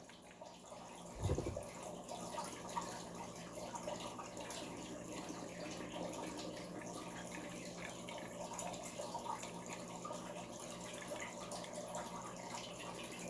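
Water pours steadily over raw pu-erh tea leaves in a rinse, a soft continuous trickle and splash with a brief louder gush near the start, then an even flow to the end.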